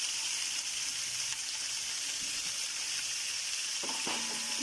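Chicken biryani bubbles and sizzles in a very large pot with a steady, hissing frying sound, and a few brief clinks near the end.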